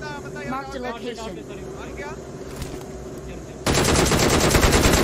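A voice talks over background game sounds, then a sudden loud burst of rapid automatic gunfire takes over and continues to the end.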